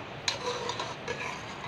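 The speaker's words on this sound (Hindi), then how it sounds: "इसको करेंगे मिक्स अच्छा।" A sauce mixture with half a cup of ketchup being stirred in a pan, soft scraping and light clinks of a utensil against the pot at close range, with no voices.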